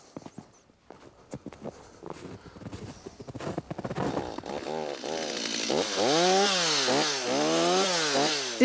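A chainsaw cuts wood in a Canadian forest, starting with scattered knocks and handling noises, then building into loud, close, repeated whining surges as the engine revs hard through the cut.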